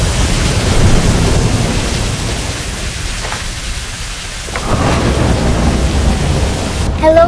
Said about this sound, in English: Today it's raining outside.